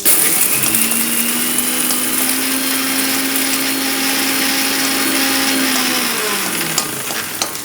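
Roasted spices for a diet puli kuzhambu are ground in an electric kitchen mixer without oil, a loud steady whirring grind with a humming motor tone that runs for several seconds and then winds down, no talk.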